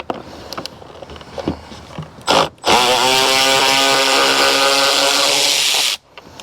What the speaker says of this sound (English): We'll take it loose now with a Torx bit.